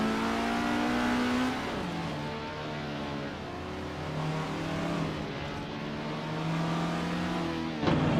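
Race car engines in a racing video game rev and climb through gears, pitch rising and dropping with each shift as cars overtake, loud and continuous with a sharp burst near the end.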